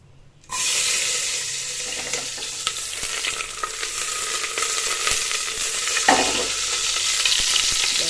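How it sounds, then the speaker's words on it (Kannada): A sudden loud sizzle as mustard seeds and onion drop into hot oil for tempering, then continuous crackling frying with occasional stirring scrapes. "ಸ್ವಲ್ಪ ಸಾಸಿವೆ ಮತ್ತು ಒಂಚೂರು ಈರುಳ್ಳಿ ಈರುಳ್ಳಿ ಒಗ್ಗರಣೆಗೆ ಹಾಕ್ತಾಯಿದ್ದೀನಿ"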